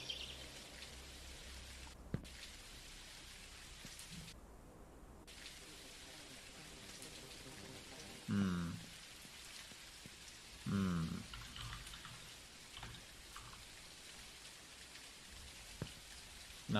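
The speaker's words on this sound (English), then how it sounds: "this will make it rain, yes, and in fact it works. And we also hear the sound." Rain in an Unreal Engine MMO video game, a steady, soft, even hiss of falling drops that carries on throughout, with a couple of brief louder tonal blips partway through.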